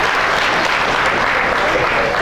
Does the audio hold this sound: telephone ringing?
no